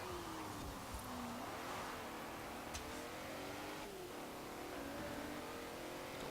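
A classic Morgan car racing in Forza Horizon 4, its engine a steady, fairly faint drone whose pitch rises and dips as it revs through the gears.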